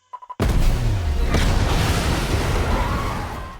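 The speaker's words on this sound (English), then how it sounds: "just as the explosion rocks the bank" A powerful explosion blows open the roof of a bank in a TV heist drama, a loud sustained roaring blast with rumbling debris that follows a few brief clicks and fades slowly.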